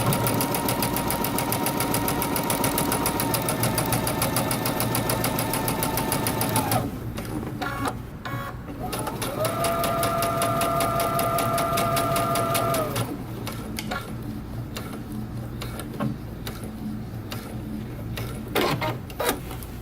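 A sewing machine runs steadily, stitching a jeans pocket lining at a 5/8-inch seam allowance, with a constant close mechanical whir that pauses briefly and resumes in several bursts, changing pitch slightly between runs.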